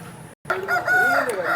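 A healthy, strong cockerel at a Vijayawada Sunday rooster market crows once, loud and close, in a long rising and falling call that follows a brief silence.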